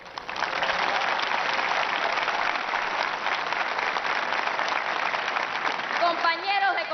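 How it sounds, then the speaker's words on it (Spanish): A large crowd applauding at a national 26 de Julio rally in Cienfuegos, a dense sustained wall of clapping, with a voice emerging over it near the end. "Hoy el aplauso merecido es para el pueblo y sus jóvenes."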